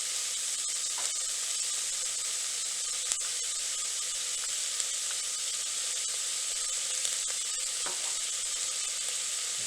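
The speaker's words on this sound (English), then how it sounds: "I'm going to start to saute those out with your sprig of sage." Onions sizzle with a sprig of sage in an Instant Pot on sauté mode, a steady bright hiss with occasional small pops and stirring clicks, close and continuous without talk.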